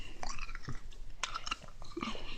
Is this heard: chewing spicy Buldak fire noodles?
yes